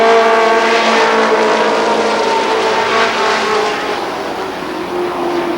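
Race cars running side by side at Columbus Motor Speedway during the Firecracker Championship, a steady loud blend of engines droning down the straight, fading slightly toward the end with no talk over it.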